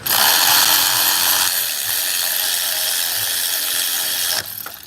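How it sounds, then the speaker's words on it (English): A 15 mm, 1/4 inch drive ratchet turns a bolt during a Volvo motor mount and upper torque rod replacement. It gives a steady, dense, close clicking for several seconds and stops near the end. "I like to use this ratchet, 15 millimeter, 1/4 inch, because of the size of the head."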